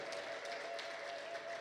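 Continuous crowd applause from a church congregation praising God, sustained and even, with a high ululating trill running through it, heard at a moderate distance.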